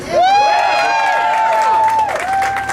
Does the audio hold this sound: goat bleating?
no